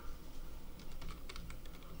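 Rapid clicking of computer keyboard keys being typed in short bursts while correcting a typo during an Excel tutorial, close and fairly quiet, with no talking.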